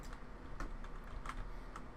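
Computer keyboard typing heard up close, a steady run of quick key clicks with a few louder strikes, alone with no voices.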